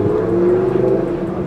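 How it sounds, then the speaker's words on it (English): A car engine revs once in a sustained, loud, throaty drone that holds steady for about a second and a half, up close and alone. "do one more rev now for the camera"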